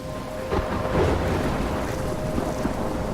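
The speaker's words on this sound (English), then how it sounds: "I'm trapped in a storm?" Thunderstorm in Life is Strange, a dense roar of wind and rain with low rolling thunder swells, loud and constant with no speech.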